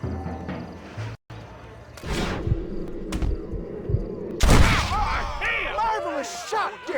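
Gunfire in a Western gunfight in the Red Dead Redemption video game, with several loud, close shots cracking out amid thuds and game effects, and voices heard in places.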